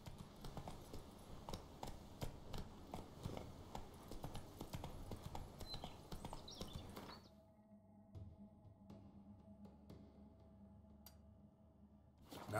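In The Witcher 3, the horse Roach gallops with rapid, rhythmic hoof clip-clops that run for about seven seconds, then drop away to quieter ambient game sound with a few scattered taps.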